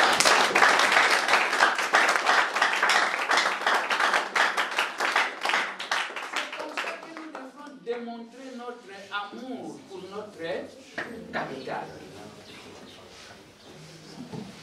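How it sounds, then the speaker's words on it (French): A church congregation applauds and claps loudly and steadily, a dense burst that gradually thins out, then someone speaks over the dying applause. "acclamons le Seigneur."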